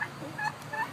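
A pet bird gives a few short, squeaky chirps in a home, close and moderately loud, with brief gaps between calls.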